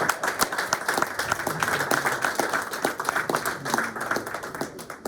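An audience at a seminar for journalists claps in a round of applause, fairly close, continuous and busy with distinct individual claps throughout.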